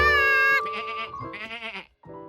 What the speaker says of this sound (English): George figured he'd pass the time watching the sheep eat grass